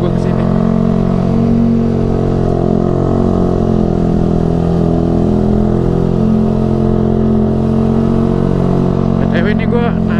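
A Yamaha R15 v3 motorcycle fitted with a Ronin Musashi exhaust is held at full throttle while touring around Puncak, giving a loud, sustained engine drone with steady pitch and mechanical clatter, with a voice talking over it.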